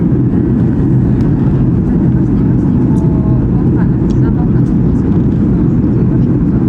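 Steady, loud low-pitched Ryanair airliner engine drone as the plane descends to land at Podgorica, Montenegro, holding constant throughout, with faint voices underneath.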